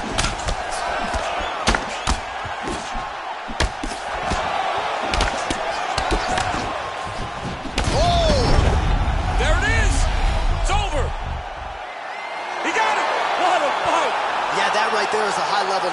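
A loud arena crowd roars and cheers after a knockout in the UFC 4 fighting video game, with impact thuds and commentary voices over the sustained crowd noise.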